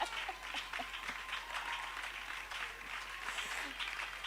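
A church congregation bursts into applause and acclaim, steady dense clapping with voices mixed in throughout.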